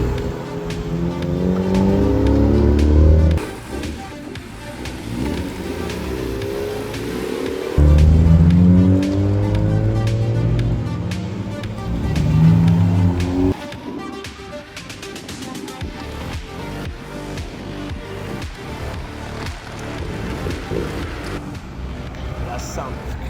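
Race cars lapping a track at a Rotary Days gathering, engines roaring and revving as they sweep past close by in repeated waves, with people talking over the noise.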